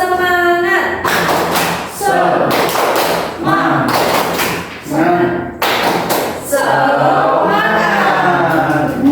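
Classroom of primary pupils performing a 'tepuk semangat' spirit chant, rhythmic bursts of hand claps and thumps mixed with loud group chanting voices, several clap patterns in a row.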